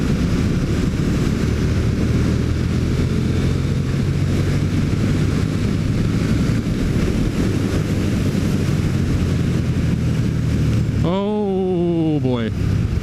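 KTM Super Duke 1290R motorcycle riding at speed in fourth gear, a loud, continuous engine roar under heavy wind rush, with a brief voice exclaiming near the end.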